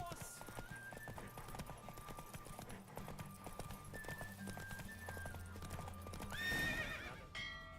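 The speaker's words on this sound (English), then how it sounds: "The roach I chose put in a nice run." Roach the horse gallops in a race in The Witcher 3, with steady rapid hoofbeats over a game music bed and a loud whinny near the end.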